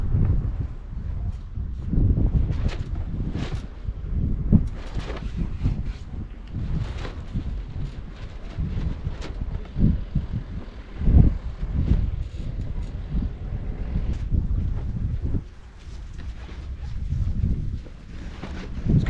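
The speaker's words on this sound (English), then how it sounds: "So the wind's coming directly behind the camera." Steady wind gusting outdoors across the microphone, a continuous low rumbling buffet with uneven surges over the whole stretch, no talking.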